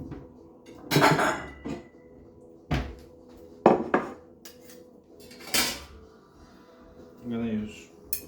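Plates and cutlery clatter while plating tagliatelle with smoked salmon, scattered sharp clinks and knocks of dishes and utensils, with a voice speaking briefly between them.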